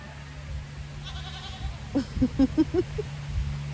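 Several goats bleat in a quick run of five or six short calls, close by and fairly loud, as the herd hurries back to the barn after a sudden thunderstorm, over a low background rumble.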